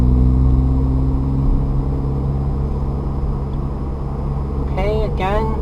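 A manual-transmission car's engine drones steadily and loudly after an upshift, a constant low rumble with no sharp rise in pitch. A voice speaks briefly near the end.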